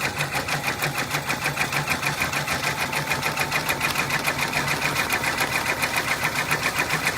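An embroidery machine stitches a flamingo design onto a sun hat, with a fast, even needle chatter that repeats steadily and close by throughout.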